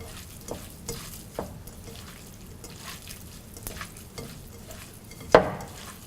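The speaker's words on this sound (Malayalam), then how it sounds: "കായപ്പൊടി, മഞ്ഞൾപ്പൊടി എന്നിവയിട്ട് നന്നായിട്ട് മിക്സ് ചെയ്യുക." Onions frying in a pan as asafoetida, chili powder and turmeric are mixed in, with a low sizzle and repeated soft scraping strokes of a spoon, close, ending in one louder clatter.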